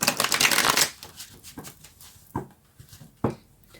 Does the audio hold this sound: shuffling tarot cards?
yes